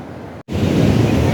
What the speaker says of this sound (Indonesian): kita tuh udah sampai di Pantai Siung